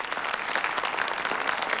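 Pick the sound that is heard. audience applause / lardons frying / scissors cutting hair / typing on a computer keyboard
audience applause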